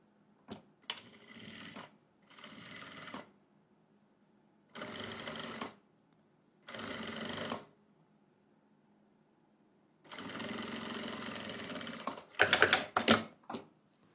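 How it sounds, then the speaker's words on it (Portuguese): Sewing machine stitching lace onto fabric in several short bursts of rapid clattering, separated by quiet pauses, ending with a quick flurry of brief runs. "Agora eu vou aplicar a rendinha na parte superior e eu vou fazer uma costura bem na beiradinha."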